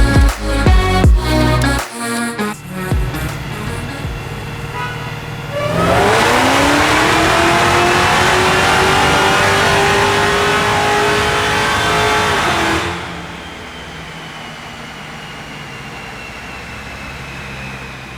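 A supercharged 1000-horsepower Hellcat strapped to a dyno roars through a sustained full-throttle pull with a rising supercharger whine, after a few sharp blips of revving, then drops off to a low idle.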